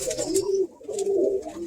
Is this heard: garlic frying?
no